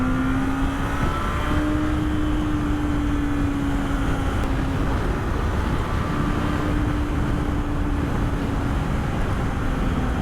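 A Yamaha FZ6 Fazer motorcycle engine pulls hard under acceleration, a loud continuous roar with rising tones and heavy wind rush throughout.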